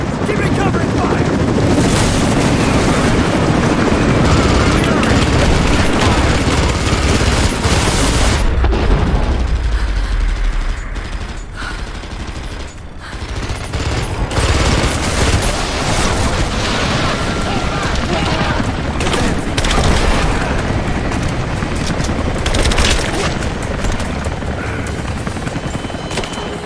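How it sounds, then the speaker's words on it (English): Heavy covering gunfire rattles through a combat scene in the video game Rise of the Tomb Raider, loud and nearly continuous with dense bursts and booming impacts, briefly thinning midway before surging again, with voices calling out over it. "Contact! Keep it covering fire!"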